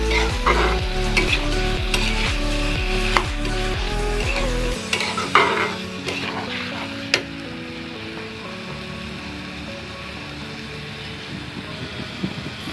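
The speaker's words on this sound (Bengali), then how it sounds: "দেখুন আমি কিন্তু সুন্দর করে নেড়ে ছেড়ে দিচ্ছি" Tomato and mango pickle fries in a pan while being stirred: a loud, continuous sizzle with rhythmic scraping strokes of the spoon that settle into a steadier hiss.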